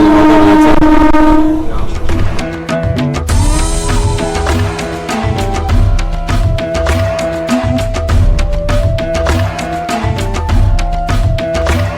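A Bengal local train on the Naihati to Barrackpore line pulls into Shyamnagar station, with a loud horn blast at the start followed by a steady, rhythmic clatter of wheels over rail joints heard from on board.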